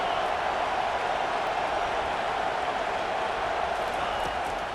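A stadium crowd at a Memphis vs Clemson game in EA Sports College Football 25 roars steadily in a dense, even wash of cheering and noise as the home fans rally behind the defense on third down.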